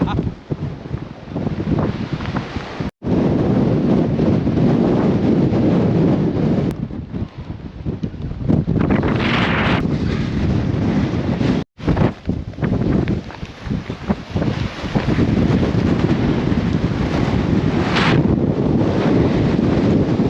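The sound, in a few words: extreme wind on a summit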